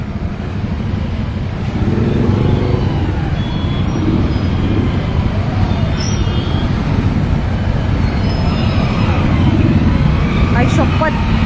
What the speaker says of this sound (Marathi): भिंगार हायस्कूल जवळ बघा कसली ट्रॅफिक लागलेली आहे